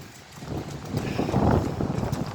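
Strong storm wind gusts across a seaside promenade at night, a steady roaring rush that swells louder toward the middle, buffeting close to the microphone with no voices.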